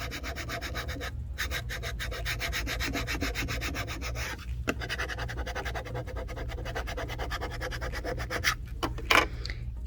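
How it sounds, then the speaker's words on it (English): A scraper rubs rhythmically over craft vinyl laid on glass, pressing it down in a fast, steady scratching pattern with short pauses, close and fairly loud, no talking. "I'm going to use my scraper again and make sure that I have all of that down as securely as possible"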